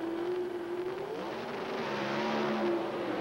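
Pro stock drag race cars, a Pontiac and a Ford Thunderbird, at the 1983 NHRA Springnationals semifinal, roaring with a loud sustained engine drone and steady high-pitched whine that shifts slightly in pitch, heard from a distance without talk.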